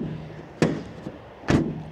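The rear door of a 2017 Renault Trafic 1.6 dCi van is shut twice, giving two sharp nearby slams about a second apart, with a small knock between them.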